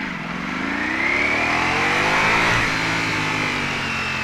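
A Ducati Panigale V4S superbike engine revs up and holds high, its pitch climbing and wavering in a loud, close, sustained roar with no talking.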